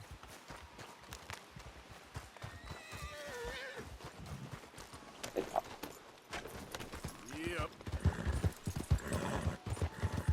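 A horse in Red Dead Redemption 2 clops along in quick rhythmic hoofbeats, with a clear whinny and snorting, and voices talk over the movement.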